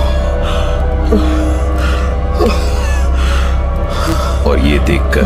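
Heavy, ragged panting after a desperate run, used as a horror-story effect, sits under a loud, constant eerie background drone with occasional sharp gasping breaths.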